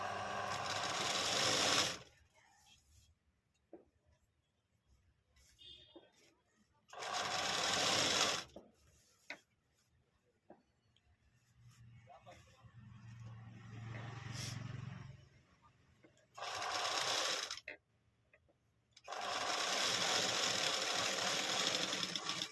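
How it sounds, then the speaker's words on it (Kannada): A sewing machine stitching the seam of a readymade top being altered, running in several loud bursts of rapid whirring with quiet pauses between, while someone talks softly in the gaps. "ಈ ರೀತಿ ಸ್ಟಿಚಿಂಗ್ ಹಾಕ್ಕೊಳ್ಳೋಣ ನೀಟಾಗಿ"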